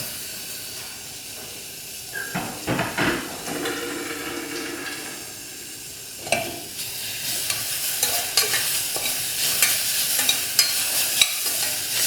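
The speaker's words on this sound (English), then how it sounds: "We will fry this for a minute until the tomatoes are soft." Onions, spices and tomatoes fry in a pan for a chickpea curry, giving a steady hiss and sizzle broken by bursts of stirring and scraping, close and moderately loud with no voices.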